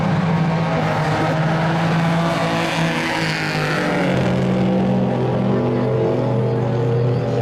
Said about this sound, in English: That Subaru sounds like more of a muscle car.